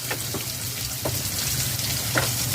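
Potatoes frying in a pan over a low to medium flame, giving a steady close sizzle with scattered pops and crackles and occasional stirring, no voices.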